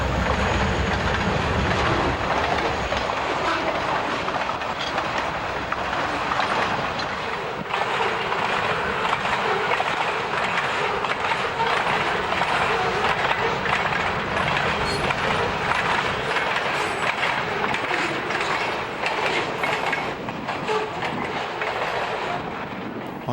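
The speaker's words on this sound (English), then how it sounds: "a train from Waterville approaches Greene after traveling near Leeds" Pan Am Railways freight train from Waterville approaching Greene in Maine, loud continuous rumble with rhythmic clickety-clack of wheels over rail joints, sustained close and heavy for the whole stretch.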